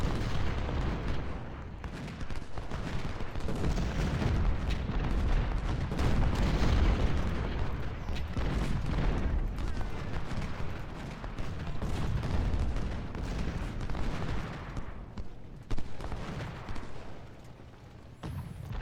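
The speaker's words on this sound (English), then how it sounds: "Siegfried can focus on shooting Burnside" Battle sounds from the Civil War strategy game Ultimate General: Civil War, with a dense, continuous roll of rifle fire and heavy booming artillery blending into a rumbling wash of combat that stays loud throughout.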